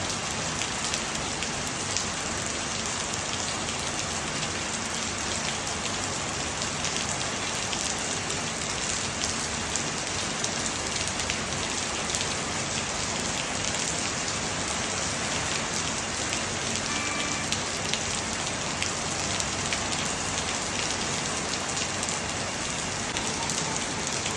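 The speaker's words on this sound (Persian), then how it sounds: "امیدوارم که لذت ببریم از صدای زیبای باران." Steady, dense rain falls in Bali, a constant even hiss of drops on surfaces with no break or change throughout.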